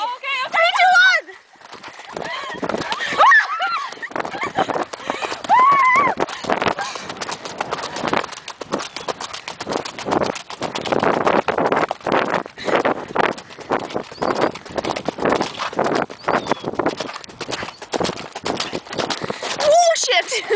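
Rapid galloping quarter horse hoofbeats pound steadily and close, ending in a sliding stop, with voices calling out and a whinny-like cry at the start and end.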